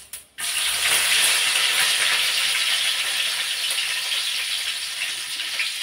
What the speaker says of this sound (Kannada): ಈಗ ಕರಿಬೇವು ಹಾಕೋತೀನಿ.